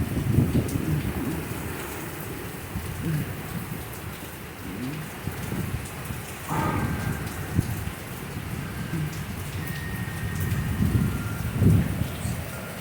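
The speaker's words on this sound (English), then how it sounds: "the visibility's kind of lowering too with how hard it's raining" Heavy rain pours steadily during an August thunderstorm, a dense continuous hiss with low rumbling swells throughout and a faint tonal whine partway through.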